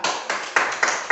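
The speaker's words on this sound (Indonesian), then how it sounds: "Tepuk tangan buat kelompok 2." A few people clap in a classroom for a student group, five or six loose, evenly spaced claps close by over about a second, with no talking.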